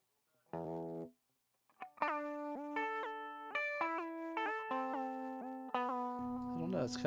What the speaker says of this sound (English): I just want to create some kind of nasty hiss, some glitchy hiss.